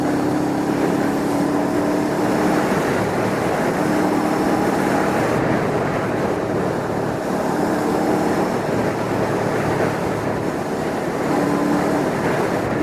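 Honda CL500, a roughly 500cc motorcycle, running in sixth gear at freeway speed, its engine hum steady and loud beneath heavy continuous wind rush, with faint rising and falling tonal notes as the throttle opens.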